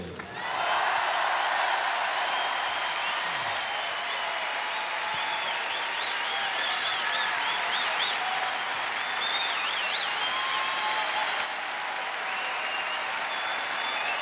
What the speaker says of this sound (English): Applaudissez, s'il vous plaît, mes chanteurs.